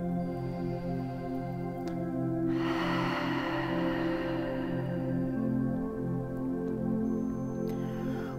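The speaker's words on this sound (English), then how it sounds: "Take in a deep inhalation and exhale fully." A deep, breathy inhale and long exhale during a guided mantra practice, rising from about the three-second mark and fading over several seconds, alone over a steady low background hum.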